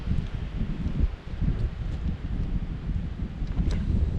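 Steady wind gusting across an open golf course on the Isle of Purbeck, a low rumbling buffet against the microphone that swells and eases throughout with no talking.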